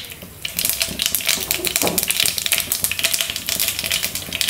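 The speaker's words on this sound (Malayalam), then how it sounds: "കടുക് പൊട്ടി." Mustard seeds crackle and pop in hot oil for a spinach thoran, a dense, rapid and continuous patter of sharp little bursts heard up close with no talking.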